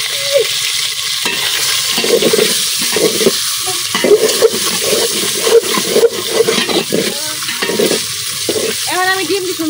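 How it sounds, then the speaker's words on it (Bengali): An egg mixed with turmeric fries in a pan in a village kitchen, a loud continuous sizzle with crackling bursts and occasional scraping stirs, close and steady throughout. "এখন আমি ডিমটি সুন্দর মতো ভাজা নিলাম"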